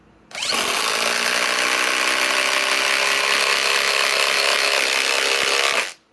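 A RIDGID impact driver drives a 6-inch lag screw into an existing hole in wood, a loud, close, continuous hammering whir that starts abruptly, holds steady for about five and a half seconds, then stops sharply.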